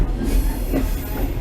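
Train arriving at Székesfehérvár station, a dense rumbling roar of wheels and carriage noise close by and loud, with a faint squeal.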